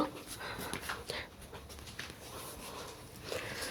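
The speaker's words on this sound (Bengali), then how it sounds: "এই যে একটা ডগ ডগের দুইটা বেবে ছোট ছোট" A dog and two small puppies pant and whimper faintly nearby, with soft quick breaths, small whines and light pattering movement.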